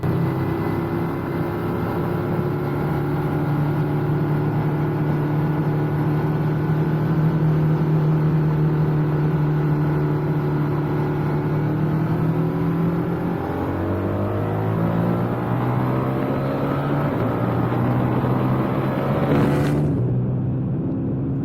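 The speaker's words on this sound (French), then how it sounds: "c'est ma première vraie accélération sur une route rapide" A 2021 Multistrada V4S Sport 170-horsepower motorcycle engine drones steadily on a fast road, its pitch climbing through long accelerations and a gear shift, loud and sustained before cutting off sharply near the end.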